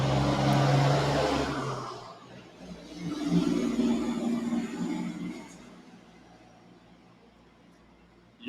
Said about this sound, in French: Il y a eu un gros camion, toutes mes excuses.